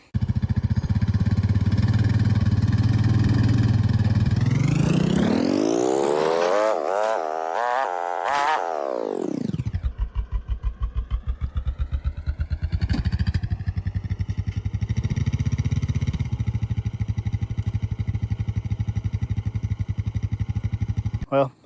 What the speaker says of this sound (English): I'm gonna see if the ATV will pull it.